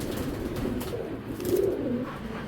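Soft, low cooing of a racer pigeon, a few gentle murmuring coos over steady background noise, with no talking.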